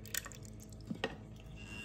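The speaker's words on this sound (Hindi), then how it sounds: "ये देखिए जो बाकी दूध है वो मैं इसमें ऐड करूँगी।" Leftover milk poured into a mixture for Punjabi lassi, giving faint, close drips and small liquid splashes with a couple of soft clinks, quiet and brief with no voice.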